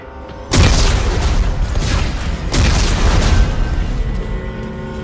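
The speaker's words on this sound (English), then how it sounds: "Computer, arm explosives. And detonate." Heavy explosives detonating in the Dead Space 3 game, two loud booming blasts about two seconds apart, each followed by a long rumbling roar that fills the whole clip.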